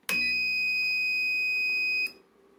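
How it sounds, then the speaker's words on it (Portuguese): An adjustable bench power supply sounds its self-test alarm: a single loud, steady high-pitched electronic beep held for about two seconds, then cut off, with no talk. "Eu vou ligar agora aqui a fonte de baixo, ela tem um alarme sonoro para indicar o autoteste dela."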